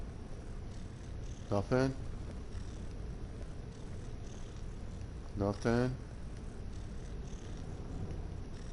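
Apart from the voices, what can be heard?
cat purring in Skyrim video game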